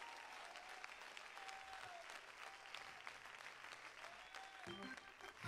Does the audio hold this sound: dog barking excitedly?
no